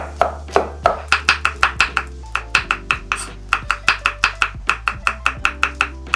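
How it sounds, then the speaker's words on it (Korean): A knife chops sour kimchi into thick strips on a cutting board, sounding as a fast, steady run of about two dozen crisp, close thuds with no talking. "신김치는 채 썰어주세요 약간 굵직굵직하게"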